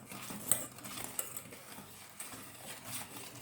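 A spoon clinks and scrapes against a bowl while a biscuit pudding mixture is stirred and milk is added, soft and close, with irregular taps and a few sharper knocks.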